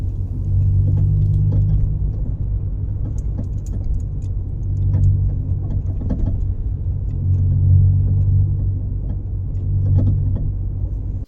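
Ford Fiesta on a test drive after suspension work, with a steady low road rumble from inside the car and periodic faint knocks and clunks from the suspension over bumps.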